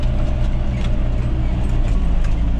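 A farm tractor engine pulls steadily in low gear across a field being disc-harrowed, a constant loud mid-pitched drone with a deep rumble and no talk.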